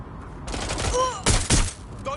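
Rapid bursts of gunfire from a firefight in the video game Watch Dogs Legion crack loudly in two tight clusters, mixed with shouting voices.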